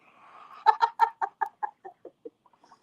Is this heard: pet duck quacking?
yes